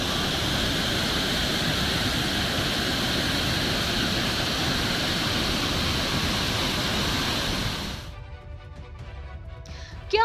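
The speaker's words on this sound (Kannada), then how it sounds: "ಚಿಕ್ಕಮಗಳೂರಿನ ಕೆಮ್ಮನಹಳ್ಳಿ ಕಾವಲು ಬಳಿಯ ಫಾಲ್ಸ್ ತುಂಬಿ ಹರಿಯುತ್ತಿದೆ" Rain-swollen waterfall near Kemmanahalli Kaval in Chikkamagaluru, Karnataka, overflowing after heavy rains: a steady, dense roar of rushing water fills the scene, then drops away abruptly near the end, leaving quieter background sound.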